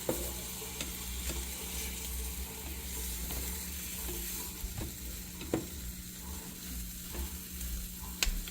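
Eggs for an omelet fry in a small pan with a continuous low sizzle and hiss, broken by a few faint clicks and ticks from the utensil or pan.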